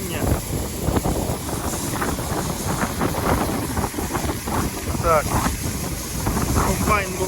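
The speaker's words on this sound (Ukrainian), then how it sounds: "І вітер такий, це просто капець." Steady, blustery wind roars across the microphone throughout a wheat harvest with a Claas Lexion 560R combine, with gusty rumble and scattered voices or activity faintly underneath.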